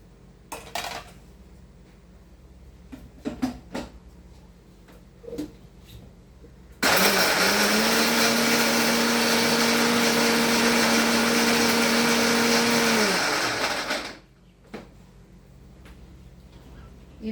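A mixer grinder whirs loudly and steadily for about seven seconds while grinding coconut and ginger, with a sustained motor hum and rattle that starts abruptly and cuts off. Brief clinks of kitchen utensils come before and after.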